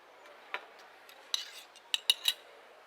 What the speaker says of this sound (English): I'm going to put our pan up here.